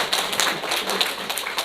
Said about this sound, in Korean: 여러분들을 위해서 박수 한번 보내주세요.